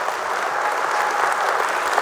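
An audience claps at a conference opening, dense, even applause filling the hall at moderate distance without a break.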